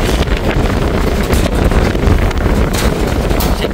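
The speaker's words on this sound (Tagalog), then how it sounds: "sumisipol yung hangin mga singko" Strong storm wind gusting and whistling past the microphone in a typhoon, a loud continuous roar with buffeting surges throughout.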